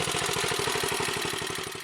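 A small Economy Power King tractor engine from Wisconsin runs at a steady idle, its rapid even chugging pulses close and loud throughout.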